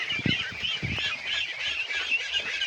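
Pet ducks feed on snails, honking and quacking sounds coming through over a steady busy background of pecking and gobbling, with a couple of louder calls near the start.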